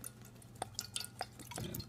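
Worcestershire sauce poured into a fajita marinade, a few quiet separate drips and splashes landing in sequence, soft and close with a faint low hum behind.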